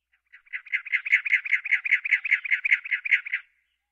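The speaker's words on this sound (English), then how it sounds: "this oinking noise of Virginia rail is the weirdest bird call in North America" A Virginia rail in a cattail marsh gives its grunting oink call, a rapid even run of about fifteen harsh pulses lasting roughly three seconds, clear and alone.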